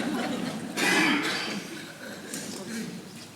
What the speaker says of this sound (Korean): 잠깐 먼저 기침 좀 한번 볼게요.